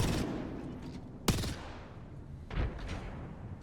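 Grenades explode in a competitive battle royale video game match, a couple of sharp booming blasts cutting through dense gunfire and game noise, loud and close.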